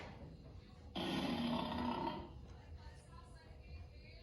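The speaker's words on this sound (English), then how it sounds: "This is the sound of the lion." A lion sound played back by an Amazon Alexa smart speaker, a rough, throaty growling roar that lasts over a second above a faint background hiss before dropping away.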